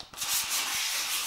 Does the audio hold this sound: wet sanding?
yes